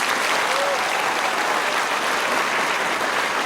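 Audience applause at a school gathering, a continuous wash of many hands clapping, even and steady throughout without pause.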